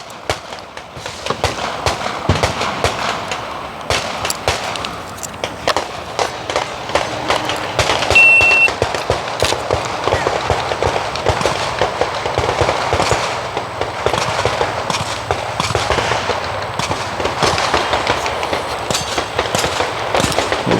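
Gunfire at an outdoor shooting range during movement and transition drills, a rapid string of sharp, fairly close shots cracking in irregular bursts throughout with only brief gaps.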